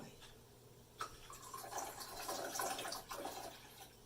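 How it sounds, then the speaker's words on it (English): Water poured outdoors in a backyard gives a light trickling, splashing flow that starts and stops briefly, with a soft background hum. "The water I'm pouring here comes from two places."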